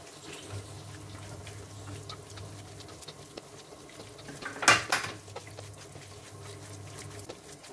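Lumpia filling being mixed in a bowl, soft wet stirring and clinking of a utensil against the bowl, with one louder clattering knock midway, close and fairly quiet.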